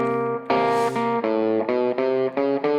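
Sustained electric-sounding tones with a gritty, saturated distortion, played as a series of held notes separated by short breaks.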